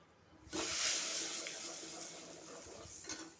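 Gram flour being roasted in oil in a pan for a vegetable dish, a sudden burst of sizzling hiss as it goes in, then steady frying with light stirring scrapes close by.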